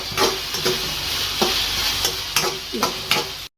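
Garlic paste sizzles and fries in a hot pan for egg rice, with a spoon stirring and scraping in repeated strokes over a steady, close crackle.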